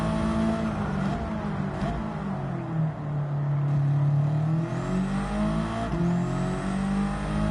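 A TCR touring race car in Gran Turismo, Jamco TCR Cup at the Nurburgring Sprint Circuit, engine droning steadily with rising and falling revs and short shifts, loud and continuous with no talking.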